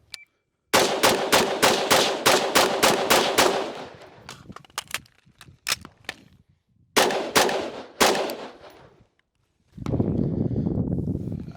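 Rapid strings of loud pistol shots fired at rectangle and circle targets on a range during a timed shooting drill: two quick bursts of about five shots each, a pause for a reload, then a final group of three, with a brief rustle at the end.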